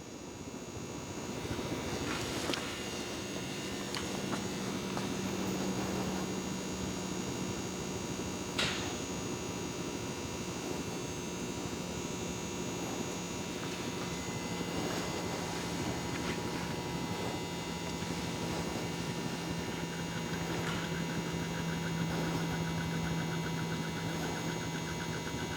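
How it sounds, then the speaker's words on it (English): Efficient low-power fan turned down to a slower speed, giving a steady, even drone with a low hum and mild mechanical whir, constant throughout with no talking. "I'm going to slow the fan down to try to produce a comparable 1 meter per second velocity out of the rotor"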